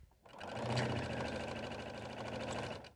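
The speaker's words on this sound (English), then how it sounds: "So let's go sew that now." An electric sewing machine runs a steady stitch along the long side of a fabric tube folded in half, right sides together, a close, continuous fast whirring hum starting after a brief pause and lasting about three seconds.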